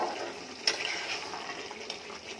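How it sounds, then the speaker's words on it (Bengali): A small splash of water is poured into masala frying in oil, producing a faint, brief gush and hiss. "এইবারে দেখুন তেল ছেড়ে দিয়েছে মশলা, অল্প একটু জল দিয়ে"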